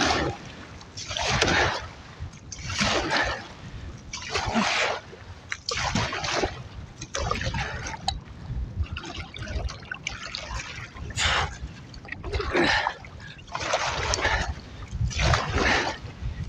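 Wind-driven lake waves about a foot and a half high slap and splash against a solo canoe in freezing cold, in repeated bursts every second or two, close and loud, with no talking.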